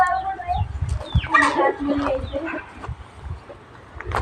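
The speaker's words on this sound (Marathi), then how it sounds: "कोंबड्या सोडल्या बघा तिकडं" Chickens cluck and squawk at moderate distance, with faint talking and outdoor background noise mixed in.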